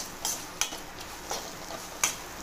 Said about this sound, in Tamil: தக்காளி போட்டு நல்லா கொஞ்சம் கிண்டி விட்டுக்குருவோம்